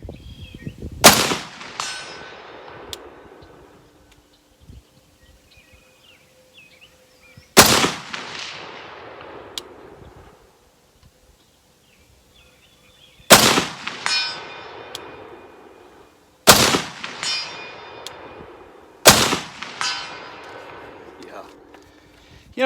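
Springfield Armory M1A Socom 16 rifle fired five times at a range, each shot a sharp, loud crack with a ringing tail, spaced a few seconds apart.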